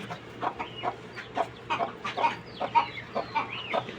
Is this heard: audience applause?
no